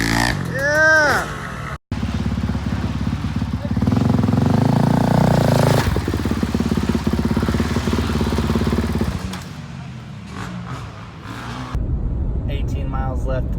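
A dirt bike engine revs and roars at close range as the rider pulls a wheelie, the pitch rising and falling, while people shout and cheer over it.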